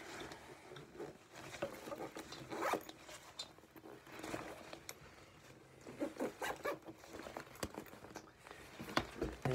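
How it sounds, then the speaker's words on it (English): A zipper is pulled closed on a folding prototype chair, giving a quiet series of quick zip strokes with no talking. "Just unclip it and then re-zip it."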